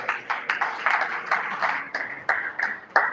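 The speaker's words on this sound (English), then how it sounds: "Please, a round of applause for yourself." An audience at a technology talk in Nigeria gives a brief round of applause: a run of sharp, fairly close claps in a loose, steady rhythm, with no voices over them.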